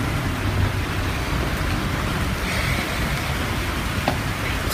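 Heavy rain pouring outdoors on a stormy day, a dense, steady hiss of drops hitting surfaces throughout, loud and close, with no voices.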